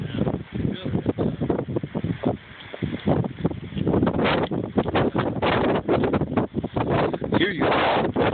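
Wind buffets the microphone outdoors in gusty, rumbling waves that rise and fall steadily, with heavier blasts toward the end.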